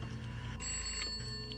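A telephone rings with a sustained bell-like trill, steady and moderately loud, with no voices.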